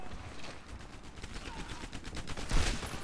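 Gunfire in the World War II shooter Medal of Honor Airborne crackles in repeated bursts, with one louder shot near the end, all under a layer of game noise.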